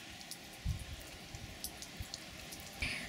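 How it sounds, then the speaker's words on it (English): Rainwater draining from a saturated wooden plant box onto the floor, faint close drips and small splashes landing irregularly, a few louder drops among soft trickling. "And just drain it out on the floor."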